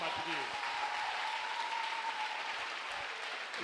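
A church congregation applauds and acclaims the Lord, steady clapping filling the room throughout, with voices calling out over it.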